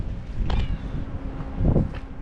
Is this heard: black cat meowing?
yes